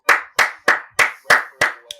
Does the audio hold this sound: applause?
yes